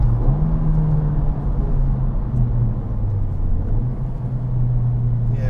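A Honda Civic Type-R FK8 pulling hard in third gear, heard from inside the cabin as a loud, steady engine drone with a rising and falling pitch under dense road rumble, no talk.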